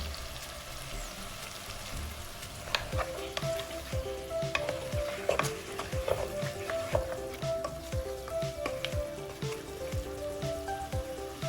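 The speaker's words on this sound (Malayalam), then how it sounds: "ഇത് കുതിർത്ത് വെച്ച കടലയാണ്. പാകത്തിന് ഉപ്പും ചേർത്ത് നന്നായി ഇളക്കുക." Soaked chickpeas and salt are stirred in a hot pan, with a spoon scraping and clinking in an irregular rhythm over a soft, steady sizzle, close up and without talking.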